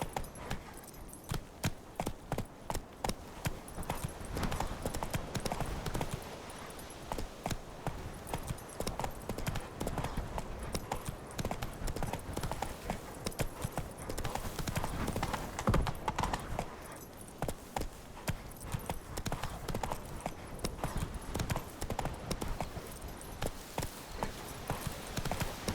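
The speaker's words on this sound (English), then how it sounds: "Giddy up." Roach the horse galloping in The Witcher 3: a fast, steady run of hoofbeats clip-clopping close and clear throughout, with faint jingling of tack and no talking.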